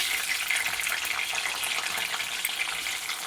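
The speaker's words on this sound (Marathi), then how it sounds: "तेल गरम झालं की यामध्ये आपण आता कांदा टाकून घेऊया." Chopped onion sizzles steadily in hot oil for a Kolhapuri chicken masala, a dense, continuous crackling hiss at close range with no talking.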